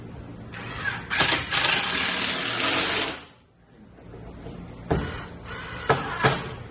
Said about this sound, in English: I'm just putting 2 screws in right now so you can see the process on video.